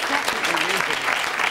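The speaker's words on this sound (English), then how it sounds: "that applause comes from our studio audience" A studio audience at a BBC books programme applauds in a steady, even wash of clapping throughout, with a voice faintly audible under it.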